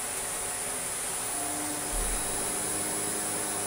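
A Shark DuoClean NV801 vacuum cleaner runs steadily nearby with a broad hiss and hum, its motor note rising briefly partway through, no voices.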